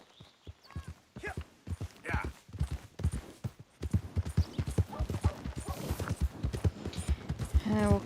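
Horse hooves clip-clop at a steady walking rhythm in the video game Red Dead Redemption 2, close and fairly faint, with a brief whinny-like sound near the end.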